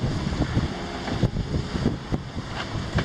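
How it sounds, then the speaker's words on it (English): Wind buffets a sailboat lying at anchor off a rocky beach on a rough night, a steady broadband roar with gusty rumbles, hull and rigging knocks, and faint water slapping throughout, with no voices. "The wind is there now."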